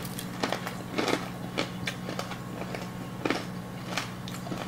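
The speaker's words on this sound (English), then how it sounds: "Y'all already heard that crunch." Crisp strips of cooked bacon bitten and chewed at a breakfast plate, giving several sharp, close crunches at irregular intervals over a quiet room hum, with no talking.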